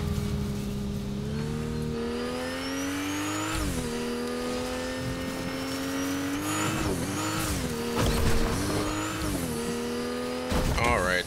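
A car in the video game Fortnite drives along with a steady engine drone that shifts pitch as it revs up and down, with tire noise and some bursts of louder action throughout.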